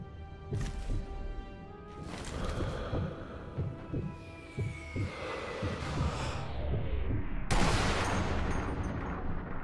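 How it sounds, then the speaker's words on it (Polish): Rifle shots in the video game Sniper Elite V2, several sharp reports spaced a second or so apart over layered game ambience, with a louder burst near the end. "No, ostatni wystrzał, dawaj."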